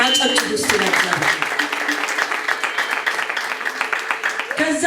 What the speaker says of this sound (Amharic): አጨብጭቡ እስቲ ለእግዚአብሔር።